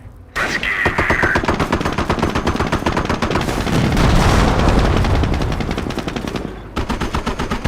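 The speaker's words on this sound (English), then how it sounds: "Taking fire!" Rapid machine-gun fire from a World War II battle in Company of Heroes, loud and close, rattling almost continuously with deep booming underneath and a brief pause near the end.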